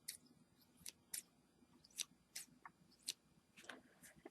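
Quiet, crisp snips of scissors cutting paper, about eight separate cuts at an uneven pace, close but faint.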